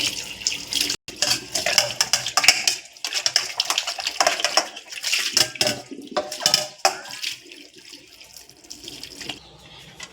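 Glass and steel dishes being scrubbed and rinsed under running pump water at a sink, with irregular clinks and splashes over a steady stream that is close and fairly loud.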